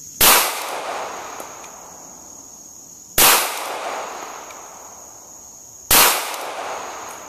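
Smith and Wesson Bodyguard pistol fired at a shooting range, three sharp, loud gunshots spaced roughly three seconds apart, each followed by a short decaying tail.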